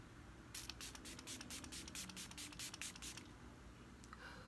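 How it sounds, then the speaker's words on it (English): A quick series of about a dozen short spray pumps of Milani Make It Last Setting Spray, close and crisp, misting out in a rapid rhythm before stopping. "I'm going to set my whole entire face with the Milani Make It Last Setting Spray."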